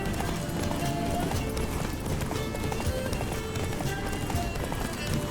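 Horse hooves gallop in a fast, steady clip-clop rhythm through The Witcher video game, loud and close, over continuous dense game noise with occasional faint speech.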